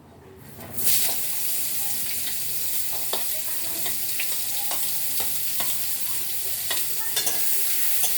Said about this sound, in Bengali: তেল দিয়ে ওর মধ্যে দিয়েছি কালো জিরে, এখন দেবো এই পেঁয়াজ।